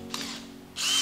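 A hand drill spins a copper tube clamped in its chuck like a bit, used as a cutter for venting RC tires; a steady close motor whir swells at the start, eases, then surges louder near the end.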